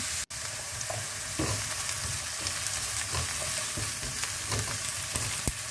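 Vegetables sizzle and fry in a pan over high gas heat, with a steady crackling hiss punctuated by scraping and clinks as they are stirred continuously.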